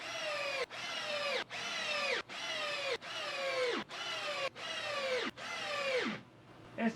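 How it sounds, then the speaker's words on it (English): An installation driver whirs at high speed in repeated bursts, each a few seconds long with brief pauses between, loud and close, with no voices. "Installation driver's got no problem doing that."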